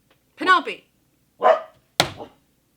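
A dog barks three times in a movie scene, each bark a loud, sharp burst spaced about a second apart, with no other sound between them.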